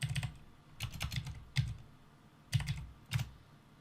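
A command is typed on a computer keyboard, with short bursts of close, crisp key clicks separated by brief pauses, quiet and alone.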